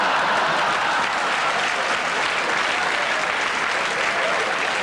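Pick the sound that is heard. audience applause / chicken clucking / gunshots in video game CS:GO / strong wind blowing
audience applause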